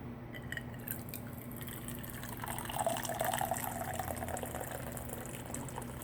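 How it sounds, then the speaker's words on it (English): Hot water, heated in a coffee pot, pouring into a carafe in a home kitchen; a faint, steady trickling stream that swells in the middle, with a low background hum. "I have a carafe that I put my hot water in after I heated it."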